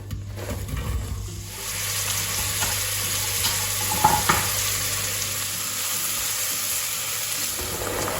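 Vegetables frying in sunflower oil for a vegan soup give a steady close sizzle with occasional stirring scrapes, continuous throughout without speech.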